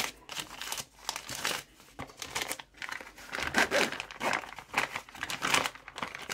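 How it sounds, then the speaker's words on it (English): Crinkly fabric of a zipper pouch bag rustles and crackles up close as it is folded inside out, in irregular handling bursts with no talking. "Fold the bag inside out."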